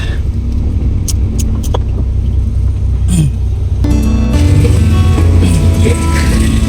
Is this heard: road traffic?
yes